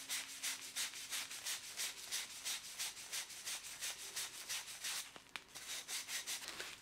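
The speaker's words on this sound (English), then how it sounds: "I'm just going to clean the end using a piece of Scotch-Brite pad." A Scotch-Brite pad scrubs the end of a copper pipe before soldering, a quick, even series of close, soft back-and-forth rubbing strokes with a small knock near the end.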